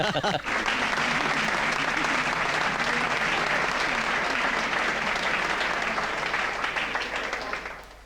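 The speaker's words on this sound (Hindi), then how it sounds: "तारीफ के भाई तालियां" Enthusiastic audience applause at a Hindi stage show, loud and sustained for about seven seconds with a dense, steady roar of many hands before tapering off at the end.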